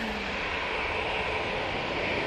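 Broadband jet roar of a Ryanair airliner on its takeoff run at Manchester Airport, a steady, loud, distant rushing hiss holding constant throughout with no voices.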